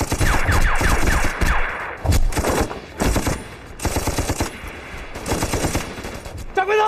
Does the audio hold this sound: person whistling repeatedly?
no